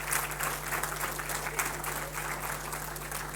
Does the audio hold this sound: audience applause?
yes